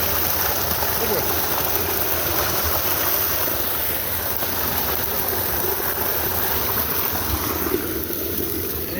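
A river stream rushes steadily nearby on an outdoor walk with a dog, a loud broadband wash of flowing water that stays constant throughout.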